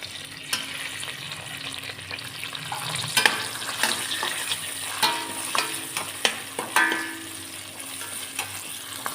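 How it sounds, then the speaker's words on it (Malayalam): Green chillies and curry leaves sautéing in a pan for a vegetable kurma, with a steady crackling sizzle and frequent spoon scrapes and taps, close and clear, with no talking. "നമ്മൾ ഗ്രീൻ ചില്ലിയും കറി ലീവ്സും ഇട്ട് കൊടുത്ത് വഴറ്റുക."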